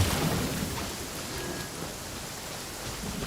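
Rain in the video game Genshin Impact falls as a steady, dense hiss of drops on surfaces, close and continuous, with no voices over it.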